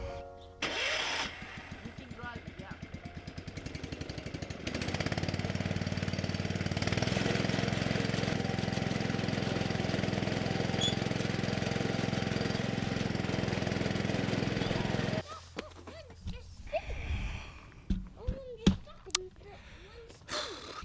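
A small tractor's engine cranks, catches and runs at a steady drone for about ten seconds before cutting off, followed by nearby voices and scattered handling noises.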